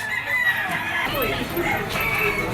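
Rooster stags with straight and pea combs crow at a pet market, one long, wavering crow close by with another bird joining faintly, over busy background noise.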